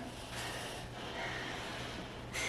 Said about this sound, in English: my bulldog snoring